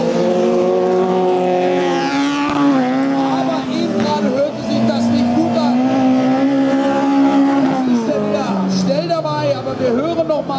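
A race car at an autocross event, its engine running rough, with a loud, strained and wavering drone that rises and falls as it is driven, while a commentator talks over it.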